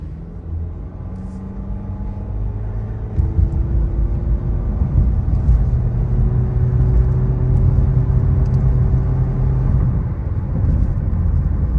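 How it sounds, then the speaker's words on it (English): A 2023 Honda HR-V's naturally aspirated engine in S mode, a steady close cabin drone with low rumble and a rising whirring note as revs build. "I'm gonna go into S and you can hear more of the motor."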